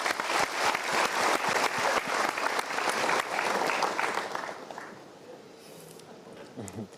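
A studio audience at a talk show claps in a dense, loud burst of applause that fades away after about four seconds, leaving a quiet room with faint shuffling.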